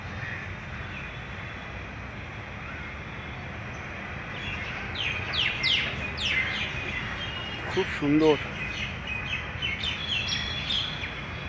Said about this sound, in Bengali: পাখির ডাকছে, শুনতে পাচ্ছেন আপনারা বন্ধুরা?